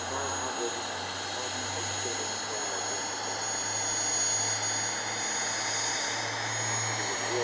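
A private jet, among the fastest civilian aircraft at Mach 0.95, flies past at the Farnborough airshow, giving a steady broad jet roar throughout, with people talking over it.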